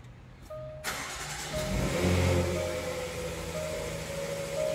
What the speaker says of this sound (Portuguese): Vamos funcionar esse Jaguar aqui pra ver.